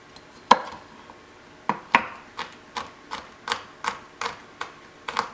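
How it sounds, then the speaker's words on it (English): Knife chopping garlic on a cutting board for a turkey cabbage casserole, with sharp close taps that start sparse and then settle into a steady, even rhythm of about ten quick strikes. "Then I'm also going to chop up my garlic."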